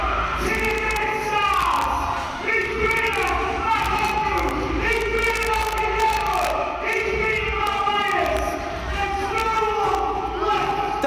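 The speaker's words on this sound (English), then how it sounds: "This crowd, this music's so loud." A loud wrestling crowd and music fill Hull City Hall at an NGW British Wrestling show, with continuous cheering and chanting over pounding music and voices throughout.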